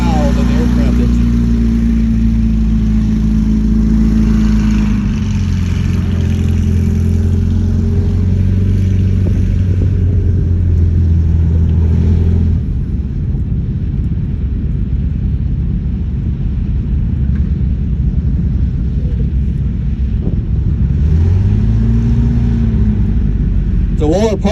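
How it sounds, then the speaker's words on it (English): World War II Sherman tank with a Ford engine running and moving at a military display, a loud, close, growling engine rumble throughout with shifting revs, while someone talks over it. "this has got the Ford engine that I was talking about. You can tell it's got a little bit different, more of a growl than the aircraft engine."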